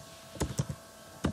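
Keys tapped on a computer keyboard while entering a command, heard as a few quick, close clicks: a short cluster of three and then one more a moment later, in an otherwise quiet room.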